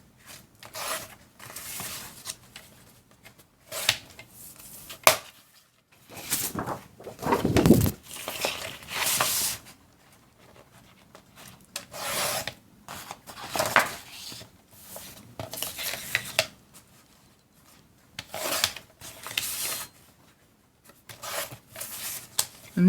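Scrapbook paper being cut by hand comes as repeated rasping, scraping strokes in separate bursts with quiet pauses between, close up with faint handling rustle.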